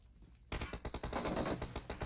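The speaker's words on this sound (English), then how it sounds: "Hoops with the shots on the Dacia." Rapid automatic gunfire in PUBG Mobile, aimed at a Dacia car during a match, bursts in after a quiet half-second and rattles on in dense, loud volleys.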